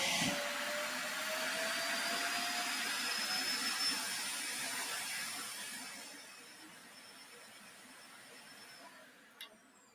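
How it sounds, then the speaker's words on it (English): A Roomba robot vacuum emptying its bin at its base in a living room, a loud, sustained jet-like roar with a whining tone that fades toward the end, followed by a brief click. "that is not a MiG-19 taken off from my living room. That is my Roomba unloading."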